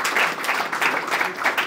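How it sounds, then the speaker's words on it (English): Audience applause rings out through a hall at a Torah Umesorah gathering, a steady dense wash of clapping with no pauses, fairly loud and close throughout. "So I think we should all give them a round of applause for all the work that they do."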